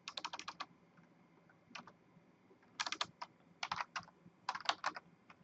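Quick bursts of keystrokes on a computer keyboard while entering a search, clustered clicks in four or five short runs separated by brief pauses, close and fairly quiet in a still room.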